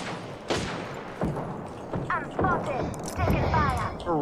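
Pistol shots from a video game ring out as several sharp, well-spaced reports amid busy game audio, with voices talking throughout.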